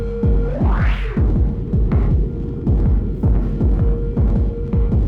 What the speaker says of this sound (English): Now I'm gonna fiddle with the reverb on ONEIROI